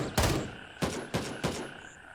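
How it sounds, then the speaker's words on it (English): Gunfire in the tactical shooter Gray Zone Warfare: four separate sharp shots at irregular intervals, each a loud broadband crack with a short echoing tail, spaced over about two seconds. "I don't mean to keep getting hung up on like the gun sound, but maybe that's what it sounds like."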